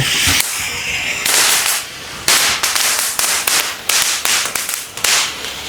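Branded Sivakasi firecrackers bursting after being lit, giving a rapid series of loud, sharp cracks and hissing bursts close by that run one into another across the clip.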